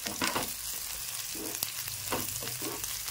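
Chopped onion fries in a pan for a vegetable dish, giving a soft, continuous sizzle broken by a few scraping stirs.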